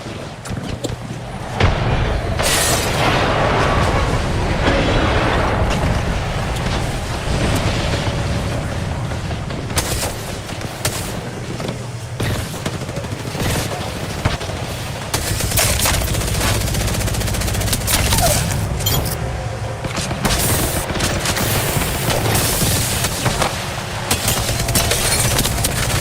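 Video-game civilian airstrike: dense gunfire and heavy booming explosions roll on without a break, loud and chaotic throughout, with a few sharper blasts standing out.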